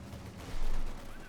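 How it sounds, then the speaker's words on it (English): In the video game Company of Heroes 2, light infantry gunfire and flak fire rattle at low volume, with a brief swell of shots in the middle of a muffled battlefield din. "Light infantry shots firing away, flak after them there."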